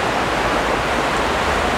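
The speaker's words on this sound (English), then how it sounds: "we're making our way back through the deep bits of water" Steady rushing water sloshes without a break as people wade through deep water in a dark underground river tunnel beneath a city roundabout and station, a broad continuous wash filling the enclosed space.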